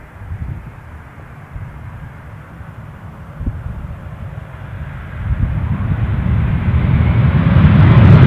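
Airbus A330 airliner arriving at Amsterdam Schiphol in fog: a broad, low jet roar under steady wind, growing gradually louder over several seconds as it approaches, no one talking.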